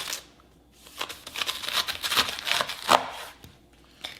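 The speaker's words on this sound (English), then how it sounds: "I'm gonna take my chef knife and cut through" A chef knife cuts through the tough top leaves of a fresh artichoke, giving a series of crisp crunching, fibrous snaps and rustles close up, with no talking.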